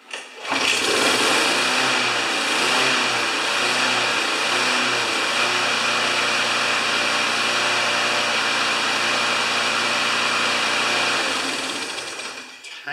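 A 4HP Briggs & Stratton small engine runs steadily and loudly close by for about twelve seconds, a continuous buzzing drone with slight surging, then cuts off abruptly.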